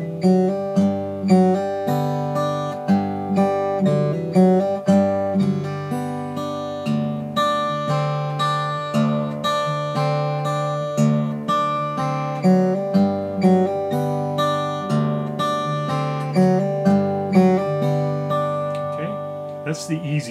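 Slack key guitar playing the low part of a song, with plucked bass notes under repeating picked figures in a steady, gently rolling rhythm, played solo and close.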